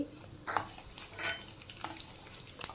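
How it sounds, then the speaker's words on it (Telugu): A tempering of mustard seeds, lentils and garlic fries in hot oil with a soft sizzle, punctuated by a few sharp spatula scrapes and clinks against the pan, close and quiet. "ఆవాలు చిట్పట్టమని పప్పు వేగిన తర్వాత వెల్లుల్లి కూడా వేసేసుకుని ఒక నిమిషం వేయించుకోవాలి"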